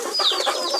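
A sick chick gives a short run of close, fairly loud clucking and peeping calls in quick succession, alone with no voices.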